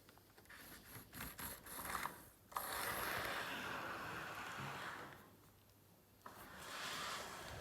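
A model railway locomotive runs forward around a layout with a faint, steady mechanical whirr and rattle. The level swells and dips as it travels, and no one speaks.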